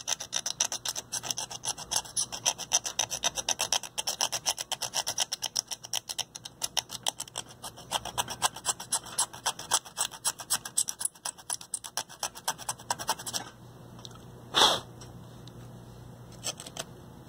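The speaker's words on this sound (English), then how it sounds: "So I'm just going to take my X-Acto and scrape away all the crusties here." An X-Acto knife scraping corrosion off the circuit board of a vintage 1980s Yamaha R-2000 receiver, a close, fast, raspy scratching repeated rhythmically, then one sharper scrape near the end.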